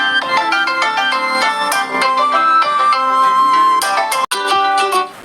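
A phone ringtone preview plays loud and alone, a bright electronic melody of quick repeated notes with a short break near the end.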